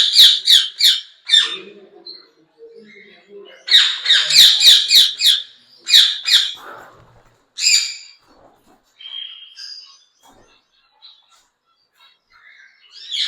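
Exotic pet birds in a breeding pair cage at an Islamabad bird shop give loud, harsh squawks in repeated bursts of several rapid calls, separated by short quiet gaps, close and without talk.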